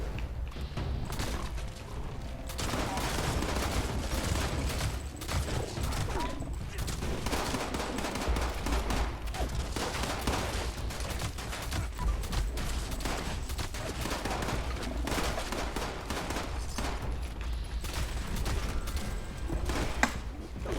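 Shotgun fire in the video game Fallout 76: repeated sharp blasts and bursts of gunfire, with mechanical clatter, run throughout over a steady game background.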